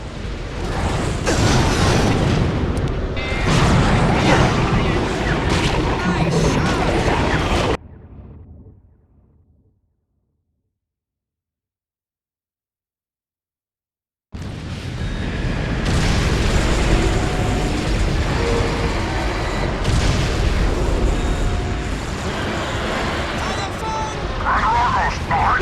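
Hydra tanks pound a floodgate in Ratchet & Clank Future: A Crack in Time, producing loud, dense booms and mechanical rumble that cut to silence for several seconds before the barrage resumes, with game voices mixed in.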